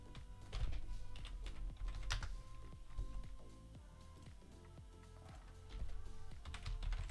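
Typing on a computer keyboard while coding, heard as steady, close key clicks at a fairly quick, uneven rhythm throughout, with a low hum of the room underneath.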